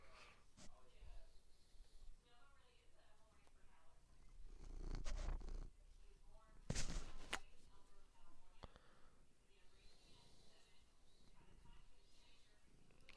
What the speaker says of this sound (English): Maybe they can hear you purring in the microphone.